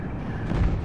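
A single heavy tank cannon shot in a video game, a deep close rumbling boom that swells briefly and fills the moment without any voices.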